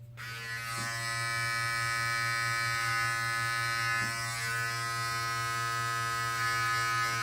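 An electric beard trimmer fitted with a 3mm comb runs continuously while trimming a beard, a steady close buzzing drone with slight shifts in pitch as it moves through the hair.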